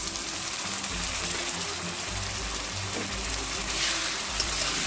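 An onion, tomato and garlic paste masala sizzles steadily in oil as it is sautéed for a Bengali mutton curry, a dense crackling hiss with occasional soft clinks of stirring.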